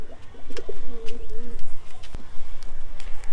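A domestic pigeon coos softly while being held in a loft, low throaty calls repeating amid handling rustles and other birds nearby.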